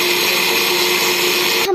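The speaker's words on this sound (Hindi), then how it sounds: "और हम इसको ग्राइंड।" A blender runs steadily, grinding mango with fresh mint leaves into a purée, a loud continuous whirring drone that cuts off abruptly near the end.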